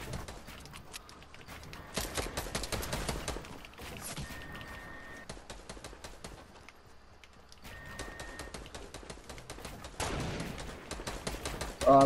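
Gunfire in the video game Fortnite, including sniper rifle shots: scattered sharp cracks and bursts of shots at moderate volume, some clustered and some isolated, over quieter game ambience.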